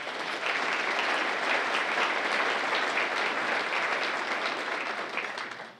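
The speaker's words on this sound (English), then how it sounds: "Please give them a round of applause." A university Founders' Day audience gives a round of applause for city leaders, a dense, steady wash of clapping that holds evenly for several seconds before tapering slightly at the end.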